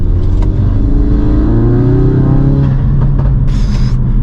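A 2017 MK7 Volkswagen Golf R or 2018 MK3 Ford Focus RS revs hard, loud and close. Its engine note rises and falls steadily, and a few sharp exhaust pops crackle near the end.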